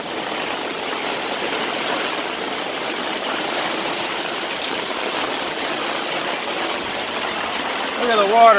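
Storm water pours out of a backyard drain in a constant, loud, close gushing wash, with a brief voice at the very end.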